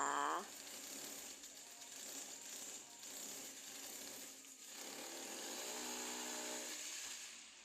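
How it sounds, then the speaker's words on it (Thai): A power drill bores holes into a wall for mounting a COTTO urinal, a steady grinding whine running several seconds with slight pitch shifts, close and loud, no talking. "จากนี้เราก็จะทำการเจาะเลยค่ะ"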